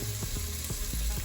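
Chopped onions hitting a hot pan for vegan albondigas, a dense continuous sizzle with faint stirring scrapes, close and steady throughout the brief moment.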